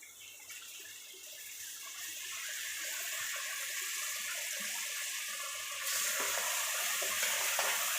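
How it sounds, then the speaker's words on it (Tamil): Curd and tomatoes sautéing in a pan for pepper chicken masala, a close, steady sizzle that grows louder with stirring, no talk. "தயிர் 75 கிராம் ஆட் பண்ணி இந்த மாதிரி நம்ம வதக்கிக்கணும்"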